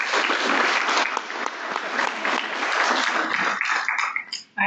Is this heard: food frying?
no